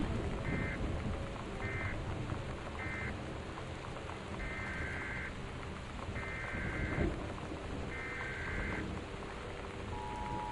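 Thunderstorm with steady heavy rain in the video game Gone Home, a continuous downpour with a low rumble of thunder swelling near the middle while repeated electronic warning tones sound over it.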